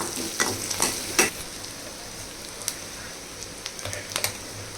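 Mutton curry base sautés over a low flame, a close, steady sizzle broken by sharp clicks and scrapes of a spoon stirring the pan, with no voices.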